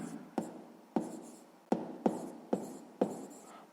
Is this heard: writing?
yes